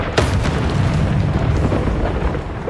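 A Descendo spell strikes in Hogwarts Legacy, a loud booming magical impact that opens with a sharp burst, then rolls on as a dense, sustained rumble of game effects.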